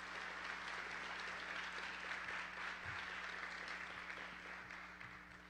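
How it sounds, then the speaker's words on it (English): Audience applause at a college lecture event, steady diffuse clapping at moderate distance that holds evenly, then tapers toward the end, over a low electrical hum. "let's give them a round of applause"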